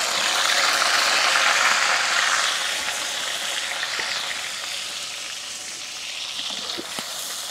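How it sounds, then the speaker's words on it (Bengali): Chilies and onions fry in soybean oil over a fire, giving a loud, steady sizzle that eases slightly after the first few seconds, with faint clicks near the end. "সয়াবিন তেল দিলাম, এখন মরিচ পেঁয়াজ দিলাম।"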